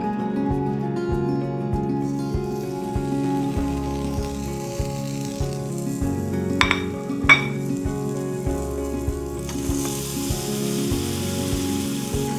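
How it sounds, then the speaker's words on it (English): Steady sizzling of fish frying on a grill, with a low rumbling hum underneath and a couple of brief clinks partway through. "So we can hear our fish sizzling right now."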